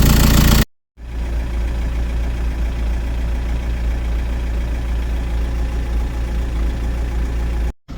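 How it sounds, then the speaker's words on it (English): A 2010 VW Caddy 2.0 SDI diesel engine idles steadily while warming up, a close, constant rumble with a light knocking tick that runs alone, cutting off abruptly at start and end. "Got it running up now, running it up to temp so I can bleed the coolant system."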